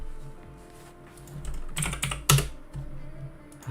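Someone typing on a computer keyboard, close and fairly quiet, with irregular bursts of key clicks and one sharper clack partway through, no talking.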